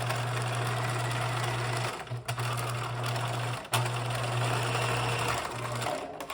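A sewing machine runs a long straight seam at 5/8 inch, the first pass of a mock French seam on a Paul Triggs copy garment, with a steady close motor hum and brief pauses as the fabric is stopped and restarted.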